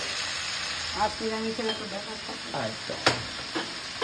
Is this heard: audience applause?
no